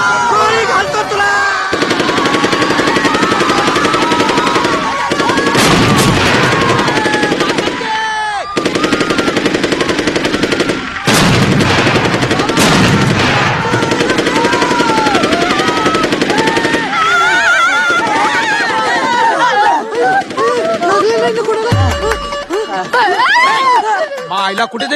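Gunshots in a Marathi comedy film scene ring out as loud bursts of rapid fire, broken by short gaps and mixed with voices and commotion.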